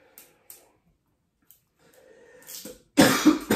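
A person gives a sharp, loud cough near the end, after a few faint breaths and throat sounds in near silence.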